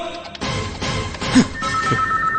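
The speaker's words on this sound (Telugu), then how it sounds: "సార్ మా ధైర్యం నుండి ఫోన్ వచ్చింది." A telephone rings with a steady electronic tone over a noisy room background, no one speaking.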